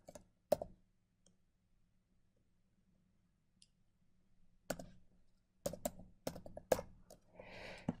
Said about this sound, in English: Okay, so I typed it in.